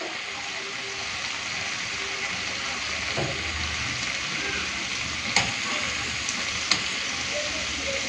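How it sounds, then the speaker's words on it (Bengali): Spice paste for a fish curry sizzles and fries steadily in a pan, a constant close crackling hiss with a couple of brief sharp clicks of a utensil. "তো এদিকে মশলাটা কষা হোক।"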